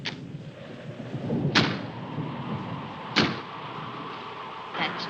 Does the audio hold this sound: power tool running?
no